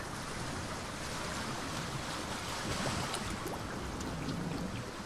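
Sea waves washing and breaking against a bare limestone shore, a steady broadband roar of surf with wind noise buffeting the microphone, continuous and fairly close throughout.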